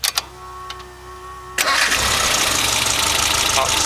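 An older carbureted engine without a computer cranks with a couple of clicks, then fires and settles into a loud, steady idle close by.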